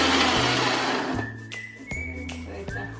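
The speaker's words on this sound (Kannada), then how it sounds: "ಇದು ಫ್ರೈ ಮಾಡಿ ಇಟ್ಕೊಂಡಿರೋ ಮಸಾಲಾನ ಮಿಕ್ಸಿ ಜಾರ್ಗೆ ಟ್ರಾನ್ಸ್ಫರ್ ಮಾಡಿಕೊಂಡು ಚೆನ್ನಾಗಿ ರುಬ್ಕೊಬೇಕು." A kitchen mixer grinder grinds fried masala paste for chicken curry in a steady whirring run, with the motor pitch shifting as it is pulsed on and off several times.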